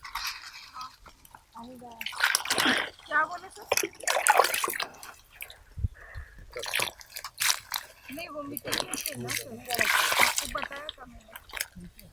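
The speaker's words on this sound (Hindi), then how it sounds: "ये पानी डाल के यहाँ पे हम कीचड़ बनाते हैं मोस्टली।" Water poured onto soil to make mud for replanting banana plants on a farm, heard as repeated splashing and dripping bursts under steady Hindi-speaking narration.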